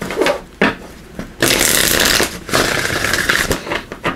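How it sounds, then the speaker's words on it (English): A deck of tarot cards being shuffled close by in quick riffling bursts, a few short flicks followed by longer crisp papery runs with brief pauses between them. "Let me just give these a shuffle."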